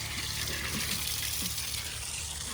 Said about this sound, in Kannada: ಕ್ಯಾನ್ಗಳೆಲ್ಲ ರೆಡಿ ಇದೆ ನೀರು ತುಂಬ್ಕೊಳ್ಳೋಣ ಅಂತ ಬಂದಿದ್ದೀವಿ